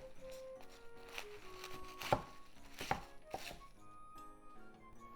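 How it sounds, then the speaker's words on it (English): A knife chops a leafy vegetable on a cutting board for a nabe hot pot, a series of close, crisp irregular thuds with a few sharper strikes midway. "Cut it into half. The leafy part into 1 inch or so."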